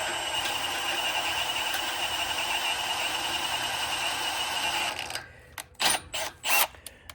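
A tap cutting threads into a drilled hole for a Zerk grease fitting on a Bobcat skid steer skeleton grapple bucket pivot, a steady grinding mechanical rasp for about five seconds, then a few separate louder squeaky scrapes.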